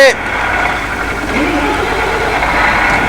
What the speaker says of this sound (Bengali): অ্যাট লাস্ট গাড়িটা কিন্তু স্টার্ট হয়ে গেছে